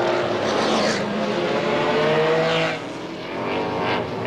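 Sports racing cars rolling off at Watkins Glen in the 2001 six-hour race, a loud, close engine roar with revving whines and passing pitch sweeps, dipping briefly before building again.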